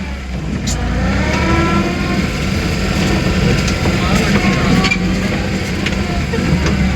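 A petrol car engine reversing hums at a steady mid-pitched drone for the whole stretch, loud and close inside the vehicle, with occasional faint clicks and background noise.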